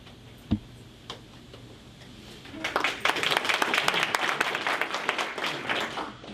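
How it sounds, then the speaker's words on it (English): Audience at a 2015 Frisco candidate forum for Collin College board seats breaking into applause: a few isolated claps and knocks at first, then a dense burst of many hands clapping that swells and continues steadily at moderate distance. "I don't normally get applause like that when I stand up."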